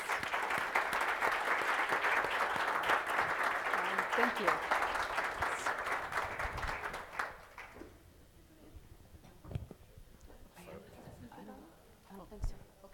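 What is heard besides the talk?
round of applause for the panelists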